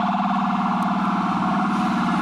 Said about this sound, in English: always busy here in New York City with the sirens